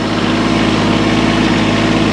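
A compact tractor engine idling, a loud, steady, close-up low drone with a constant throb, alone without voices.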